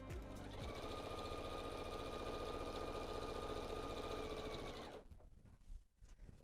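Sewing machine stitching patchwork pieces for a pet leash runs fast and steady for about four seconds, close and rhythmic, then stops, leaving faint handling noises.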